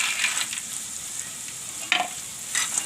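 Peanuts fry in hot oil alongside raw banana and chillies, a close steady sizzle broken by a few stirring scrapes.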